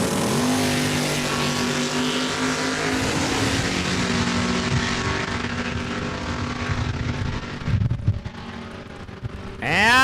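Drag race cars at Saskatchewan International Raceway, including a Camaro, roar loudly with sustained engine howl as they launch and run the quarter mile, a sweeping pass near the end.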